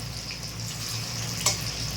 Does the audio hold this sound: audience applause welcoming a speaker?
no